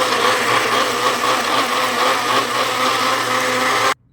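A kitchen mixer grinder runs at full speed blending mint paste with water for a prawn gravy, a steady loud whirring motor that holds for about four seconds and then cuts off abruptly.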